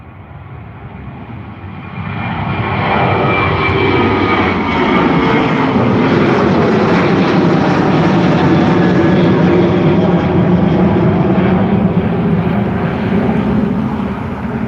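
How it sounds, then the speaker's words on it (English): A Ryanair Boeing 737-800 jet passes at Dublin Airport with a loud, sustained engine roar that swells after the first two seconds and holds steady, with a shifting whine and a broad rumble through the rest. "There it is, the Ryanair flight to London Gatwick, the 737-800, registered in Polish subsidiary."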